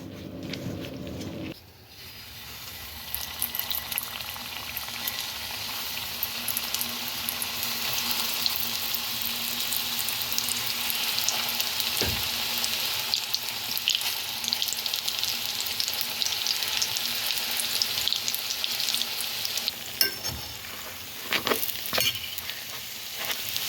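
Pyrizhky pastries fry in hot oil with a steady, dense sizzle and crackle that holds nearby throughout, broken by a few faint knocks and stirring sounds, with no talk.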